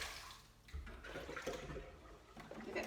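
Soaked coned yarn being squeezed out by hand, giving a steady wet sloshing and dripping of water with soft squelches, close and moderately quiet, with no talking.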